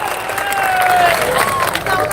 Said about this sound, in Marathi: टाळ्या करा लोकांसाठी पुन्हा एकदा